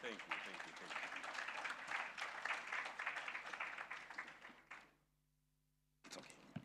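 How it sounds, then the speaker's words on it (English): Dense applause fills a conference hall for about five seconds, then breaks off into near silence before a new sound starts. "let's give Perina a better round of applause"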